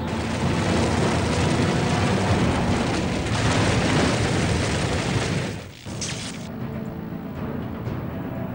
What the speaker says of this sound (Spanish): Finalmente las torres ceden y lo que quedaba de un importante puente desaparece